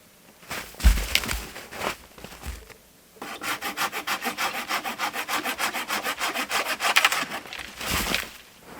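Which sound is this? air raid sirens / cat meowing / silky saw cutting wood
silky saw cutting wood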